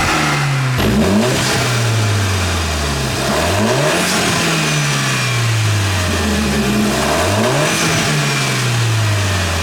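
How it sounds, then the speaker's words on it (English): A car engine fitted with an induction kit revs up hard three times, each climb rising and then falling back, loud and close with no talking. "we'll do a quick rev and I'll show you what it sounds like with the induction kit"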